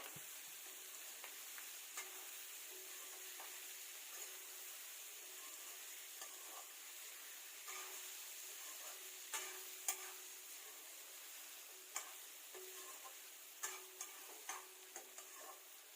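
Pork frying in a pan with tomatoes, a faint continuous sizzle with occasional soft ticks and stirring taps scattered throughout, no voices.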